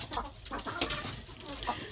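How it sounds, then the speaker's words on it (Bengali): Tiger-breed hens clucking close by in a farmyard where they sit on grass and lay eggs, a dense overlapping run of short clucks with scattered brighter calls across a continuous low background. "এগুলো আমার টাইগার মুরগি এখানে সবগুলোই মুরগি"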